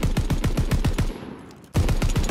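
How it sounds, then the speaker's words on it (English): A Bren light machine gun fires in Call of Duty: Vanguard with two loud rapid bursts of evenly spaced shots separated by a short echoing pause, alone without talk. "Here's the Bren also."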